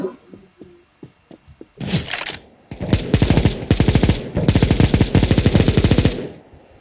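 Automatic rifle fire spraying bullets in the video game CS:GO, loud and close, in long rapid bursts of evenly spaced shots after a few scattered clicks.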